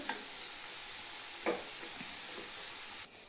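Chicken pieces fry in oil in a pan while making chicken pickle, a steady close sizzle with a couple of brief stirring clatters and no voices.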